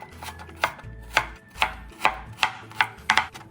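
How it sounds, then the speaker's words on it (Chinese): A kitchen knife chops a 150-gram carrot into fine strips on a cutting board, about eight crisp, evenly paced blade strikes, close and clear with no talking. "先切片，再切成丝。 最后再切细。"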